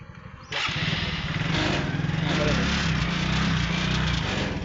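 A motorcycle engine during a riding lesson with the clutch being released, starting from quiet and then running with a steady, close, throbbing drone while a person speaks over it.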